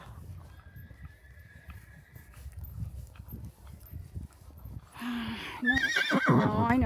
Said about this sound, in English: those horses must be acting up again, are they?